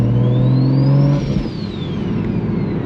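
BMW 1M clone engine revving hard while driving, a loud rising whine that peaks then drops off as the throttle lifts, followed by steady engine and road drone.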